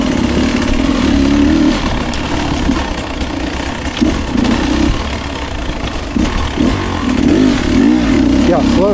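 A Beta 250 Race Edition two-stroke dirt bike runs in third gear at low speed, its engine note buzzing and burbling loud and close, rising and falling slightly, while a rider talks over it.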